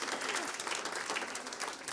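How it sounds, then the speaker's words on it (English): Audience applause at a school district board meeting, a short stretch of steady, dense clapping that stays fairly loud from start to finish. "Yeah, I'll clap for them."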